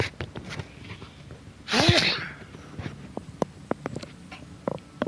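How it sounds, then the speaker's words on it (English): A single sharp sneeze bursts out near the middle, loud and close, with a breathy hiss, surrounded by quiet shuffling and small clicks, during play of the video game Hogwarts Legacy. "I'm gonna sneeze."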